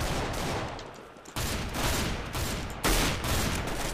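Rapid bursts of gunfire from the video game Counter-Strike: Global Offensive, loud and dense, with several sharp onsets as new volleys begin, no voices.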